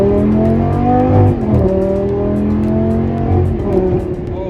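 A tuned Audi R8 engine revs and downshifts up close, loud harmonic tones climbing then dropping sharply with each gear change, a steady mechanical roar throughout.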